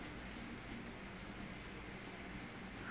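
Rain falls outside during a rainy day, a soft, steady, even patter that is faint and distant throughout, with no talking.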